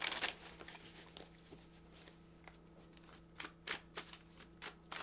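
A journal prompt card deck being shuffled: soft, quiet riffling and papery flicks in short irregular bursts, close by, with no talking.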